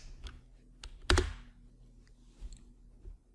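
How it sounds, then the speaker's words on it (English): Keys tapped on a computer keyboard while entering a search into a browser window, a short burst of light clicks with one louder keystroke midway, close and alone. "Let's type in R and type in t-test."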